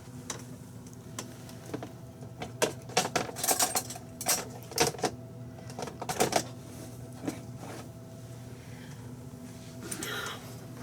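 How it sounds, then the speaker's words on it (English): Metal spoons and cutlery clink and clatter in a home kitchen while side dishes are prepared, with a run of sharp, close clicks and rattles in the middle and faint background noise around them. "let me get me out another spoon down here"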